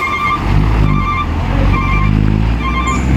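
An Epastar intercity bus bound for Palembang, with an Inuaka engine, pulls into a bus terminal in Indonesia: a steady, loud low diesel rumble with a sustained tonal whine, plus a faint high beep near the end.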